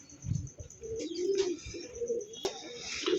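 A pair of homer pigeons coo softly up close, with low throaty rolling calls repeating over quiet background noise and a sharp click partway through.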